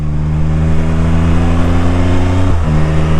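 Can-Am Spyder F3 Limited three-wheeled motorcycle engine holding a steady loud rev, then a brief dip and recovery as it downshifts, close and continuous with no talk.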